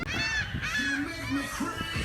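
Geese honking loudly and repeatedly at the Kemah boardwalk in Texas, several overlapping nasal calls close by, with a faint voice in the background.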